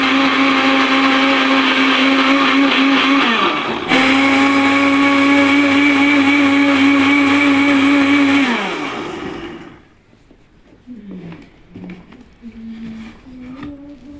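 An electric grinder whirs loudly and steadily as it blends walnut milk, briefly dipping in pitch before running on, then winding down to a stop followed by faint clinks and a low voice.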